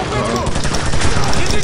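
Call of Duty 4 Modern Warfare gunfire clatters continuously at close range, loud and dense, with a voice faintly present underneath.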